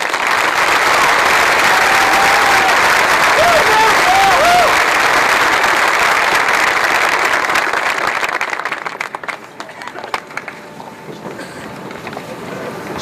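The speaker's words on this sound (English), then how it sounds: "Please honor these students with applause." Sustained applause from a large audience at a 2013 New Richmond High School graduation, loud and dense for several seconds before thinning out into scattered claps.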